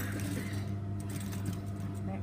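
A sewing machine stitches a seam in a steady, continuous mechanical drone that holds at an even level throughout.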